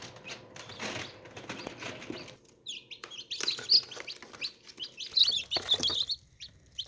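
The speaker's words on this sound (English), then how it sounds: "So here's the little chicks." Newly hatched chicks from laying hens, in a brooder pen: high, thin chirps come in short bursts and clusters, fairly close but not loud, over a quiet background with no talk.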